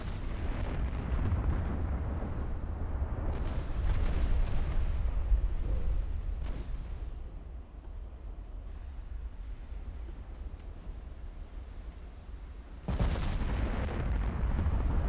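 Deep booming naval gunfire and heavy shell hits roll through Ultimate Admiral: Dreadnoughts, with sustained low rumbles, a few sharp blasts and a sudden loud report near the end.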